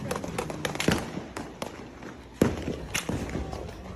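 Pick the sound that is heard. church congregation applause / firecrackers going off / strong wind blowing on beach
firecrackers going off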